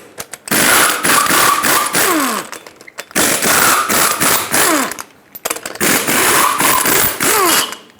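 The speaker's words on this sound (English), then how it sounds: "use a 22mm socket to remove all 8 lug nuts and then pull the wheel off" Lug nuts come off a Ford E-350 wheel with a powered 22mm socket tool, three loud whirring, rattling bursts of about two seconds each separated by brief gaps, close up.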